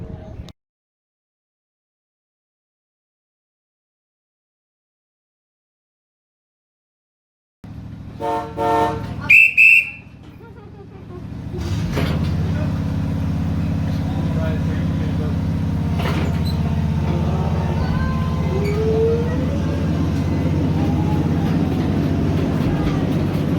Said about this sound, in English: getting ready to take a train ride